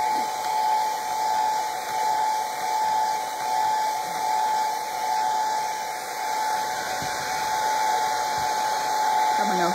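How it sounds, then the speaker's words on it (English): A hair dryer blows on a book's fore-edge painting, giving a loud, steady whirring roar with a constant high whine that runs unbroken throughout, with faint handling sounds underneath. "Hair dryer again."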